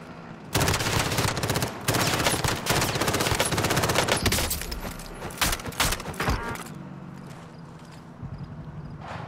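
Dense rapid bursts of automatic gunfire in a video game, loud and continuous for several seconds, then thinning to scattered shots before fading to quiet.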